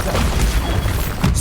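A Bombarda blasting spell exploding in the game Hogwarts Legacy, one short loud booming burst with a sharp crash at the end, heard alone without talking.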